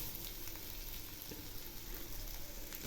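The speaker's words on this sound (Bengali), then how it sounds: "চালগুলো ভাজা প্রায় হয়ে আসছে।" Rice for khichuri fries in a pan, giving an even, soft, continuous sizzle up close with no strokes or voices over it.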